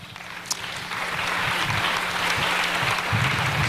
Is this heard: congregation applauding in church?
yes